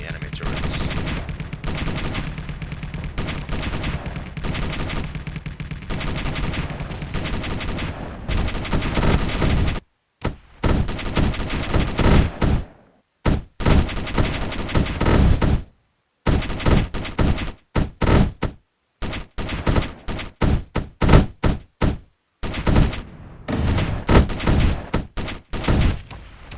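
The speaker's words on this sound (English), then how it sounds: "the frigate can produce a high volume barrage of 122 shells" Rapid bursts of gunfire from an assault frigate unloading a heavy shell barrage in the space combat game Space Engineers, loud and dense at first, then breaking into choppy volleys separated by brief silences.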